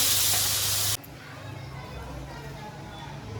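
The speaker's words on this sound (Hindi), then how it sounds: "तड़का लगाएंगे, इनको अच्छे से भूनने देंगे।" A loud burst of sizzling hiss as spices hit hot oil for tempering, then a quieter steady frying crackle with faint background voices.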